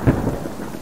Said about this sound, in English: It's very distracting with all of this rain